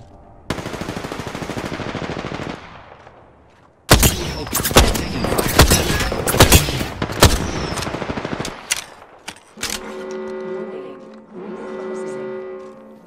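Apex Legends gunfire rattles in rapid automatic bursts, loud and close, with sharp single shots breaking the stream, followed by a beeping game tone.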